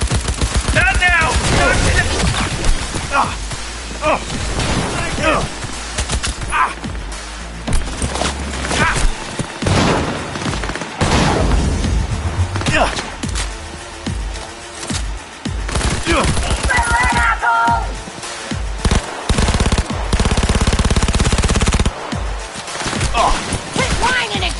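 Gunfire in the video game Cyberpunk, loud dense bursts of automatic and single shots packed across the whole stretch, with explosions and combat sounds between, and voices shouting over the fighting.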